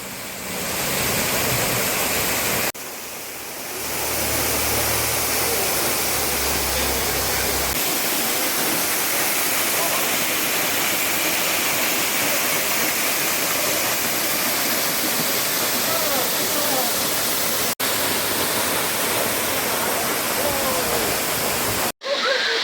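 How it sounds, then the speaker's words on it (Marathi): Numerous tall waterfalls plunging down the cliffs of Malshej Ghat send a steady, loud, broadband roar of rushing water that continues unbroken, with a brief dip and a few sharp clicks. "डाव्या बाजूनं कितीतरी फूट उंचीवरून खाली झेपावणारे असंख्य धबधबे दिसायला लागले"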